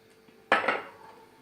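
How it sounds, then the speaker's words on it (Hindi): Dry spices tipped into a metal pot of mutton biryani with tomato, a single sharp clatter of utensil against the cookware with a quick second knock and brief metallic ring, close and alone. "तो ये सारे सूखे मसाले इसमें डाल देंगे।"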